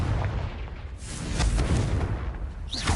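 A Confringo fire spell bursts in Hogwarts Legacy as a sustained, rumbling boom with crackling fiery texture, loud and close, swelling through the middle and ending in a brief whooshing flare.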